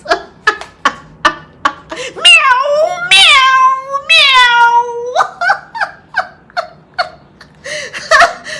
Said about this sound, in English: Her cat was meowing, okay?